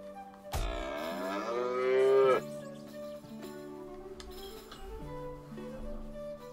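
A cow in the South Park: The Stick of Truth video game gives a single loud, drawn-out moo after being struck with a stick, followed by quieter game music and ambience.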